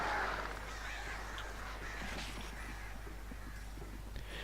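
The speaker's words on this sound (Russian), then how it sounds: "сейчас меня убьют эти вороны" Crows cawing in the video game Alan Wake, harsh calls scattered over a constant low ambient rumble, fairly faint and with no talking.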